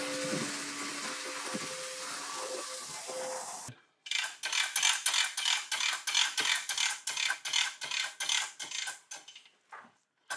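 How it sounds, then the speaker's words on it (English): Retractable hose reel on a wash cart winding in its hose: after a steady spray-like hiss stops, a rapid ratcheting clatter of gears and pawl clicks runs in pulsing bursts for several seconds, close and alone. "you go to retractable hose reels, you'll never go back to hand reels"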